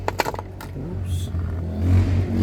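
A 1989 BMW 325iS E30 with a swapped-in S54 engine and E46 six-speed manual starts up and revs. A few sharp clicks come first, then a steady low engine rumble builds and swells near the end.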